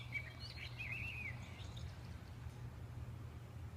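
Chirping birdsong from a toy garden sound book plays in a few quick, faint tweets over a steady low background hum, with no voices.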